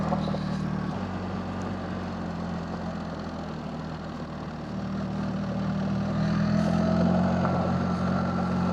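A BMW R1300GS motorcycle rides a gravel forest road in Germany, its engine a steady low drone with a slight swell partway through, alone without talk.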